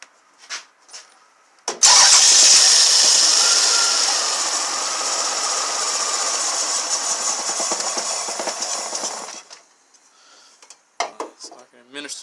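A Toyota/Lexus engine being diagnosed for a P1300 fault cranks, catches and runs with fuel added, a loud sustained roar for several seconds that fades out, followed by a few short bursts of noise.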